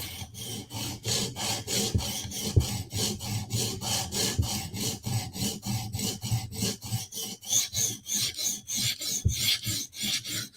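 Knife blade stroked repeatedly against a sharpening stone on a clamped guided sharpening system, a steady rhythmic rasping of even back-and-forth strokes, close and continuous with no talking.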